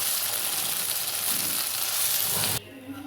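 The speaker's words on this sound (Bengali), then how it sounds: "এবার এটাকে আমি তেলের মধ্যে ভালো করে ভেজে নিচ্ছি" Pea pods frying in hot oil with dried chilli and nigella seeds, a steady close sizzle with stirring that drops off sharply near the end.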